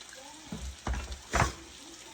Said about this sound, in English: We're going to add a tad bit of water to loosen it up.